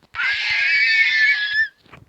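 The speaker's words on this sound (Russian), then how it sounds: "Бьем лошадь, потому что у меня нету седла." A horse in a survival video game squeals once when struck by a player, a loud sustained cry lasting over a second, followed by faint scuffling.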